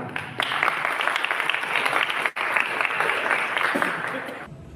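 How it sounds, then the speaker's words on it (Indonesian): An audience at an APPEKNAS Kepulauan Riau inauguration event gives sustained, even applause, with a brief dropout partway through before the clapping resumes, and faint voices underneath. "Tepuk tangan."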